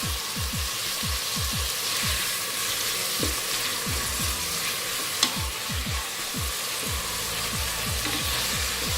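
Ingredients for chana gosht are mixed in a frying pan, with a steady sizzle under a run of quick, regular spoon scrapes and knocks against the pan, heard close and alone.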